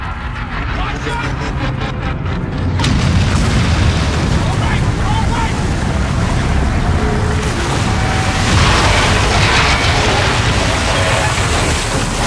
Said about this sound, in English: Our Raiders guns are still firing on our fleet.